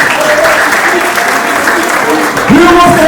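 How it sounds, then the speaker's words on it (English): An audience at an awards night applauding, sustained loud clapping from a crowd that carries through, with voices and cheers rising over it near the end. "Give Zach a big round of applause."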